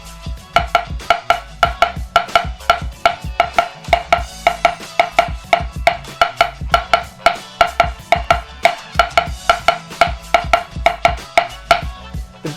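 A snare drum plays the A section rhythm of a double stroke roll exercise: close, sharp strokes and rapid doubled hits cycle in a steady repeating pattern, loud and alone with no voices.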